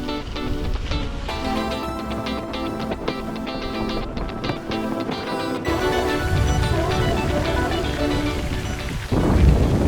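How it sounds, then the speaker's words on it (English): Heavy rain pours steadily during a Swedish Cup mountain bike orienteering event in Värnamo, with dense hiss and low rumbles of thunder swelling toward the end, fairly loud throughout. "it started raining like crazy"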